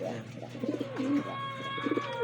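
Homer pigeons coo close by in repeated soft, throaty bursts. A steady high hum runs underneath.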